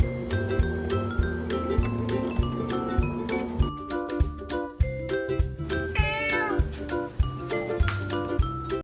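Meatball, a fat cat kept as a channel mascot, meows over steady background music with a strong beat, the cries short and repeated close up.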